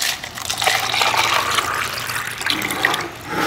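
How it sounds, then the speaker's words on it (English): Water pours steadily into a plastic cup patched with duct tape, a continuous splashing, filling sound close by with slight swells in intensity. "So now, we're going to put some water in the cup."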